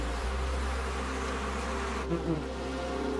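Bees buzz in a dense, continuous drone, loud and close, with no speech over it.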